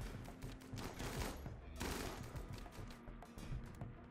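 Raiders in the colony-building game Rimworld open fire, producing a dense, faint crackle of repeated gunshots that continues throughout under mild background noise.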